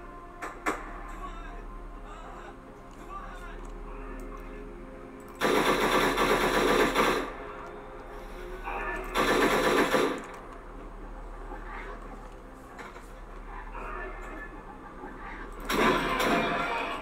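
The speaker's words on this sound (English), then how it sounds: "That's right, keep firing at me." Gunfire in the video game Stalker Anomaly, three loud bursts of automatic shots a few seconds apart, separated by quieter stretches of low ambient rumble and faint movement.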